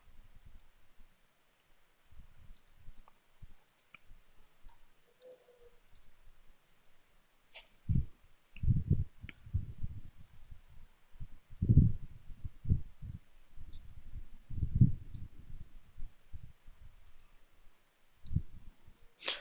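Mouse clicks during a Citrix FAS server software installation, scattered sharp taps that grow denser and louder midway, close and isolated in a quiet room.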